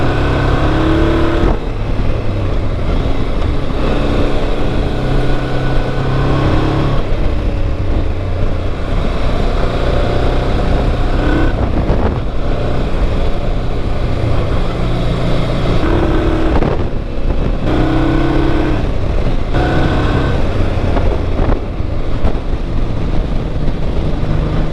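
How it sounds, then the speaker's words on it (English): A motorcycle engine running while riding mountain roads around Caramulo in central Portugal, a loud close drone with rising and falling revs and repeated gear changes, backed by strong wind buffeting throughout. "Listen to that bike."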